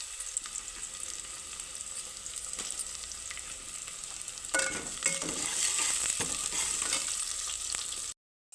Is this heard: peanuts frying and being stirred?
yes